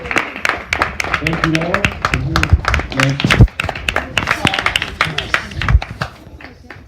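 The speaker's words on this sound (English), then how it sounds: "a special round of applause to Stephanie, Fernando, and Paolo for their wonderful time" An audience at a session on a reformed English curriculum claps for the participants, a spread of quick claps going on under a speaker's voice before tapering off.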